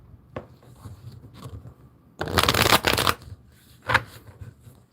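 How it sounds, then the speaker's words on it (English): Tarot cards are shuffled close up: a few light card flicks, then a loud riffling burst lasting about a second, and a final quick shuffle. "Let me get one more shuffle."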